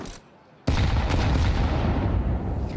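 Grenade blasts in a Counter-Strike match going off back to back: a brief lull, then a sudden loud explosion that keeps roaring and crackling at full strength to the end.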